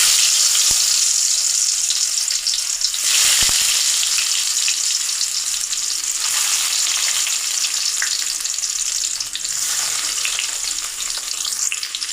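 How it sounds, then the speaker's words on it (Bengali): Cabbage paturi parcels sizzle and crackle steadily in hot oil, a dense, continuous frying hiss with a few soft clinks, close and clear with no talking. "এখন তেলে দিব। একটা একটা করে তেলে দিয়ে দিচ্ছি।"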